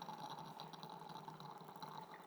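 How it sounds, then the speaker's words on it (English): A steady stream of water pours into the center of an Omni Dripper coffee brewer, a quiet, continuous trickle with faint bubbling, heard alone. "we're pouring in the center"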